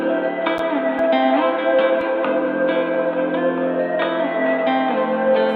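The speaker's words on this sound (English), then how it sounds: "Next, I added this sound that I made over in Serum." A sustained, reverberant synth sound designed in Serum, with echo effects, rings out in bright layered tones, with a few soft clicks and a gentle swell, and nothing else in the mix.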